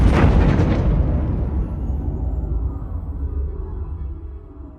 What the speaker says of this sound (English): this feels like the laser firing and then come down to a consistent laser